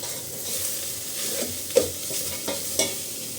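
Ingredients being sautéed with dried red chilies in a pan for cucumber rice, a steady soft sizzle with spoon stirring and a few sharper scrapes or clicks against the pan.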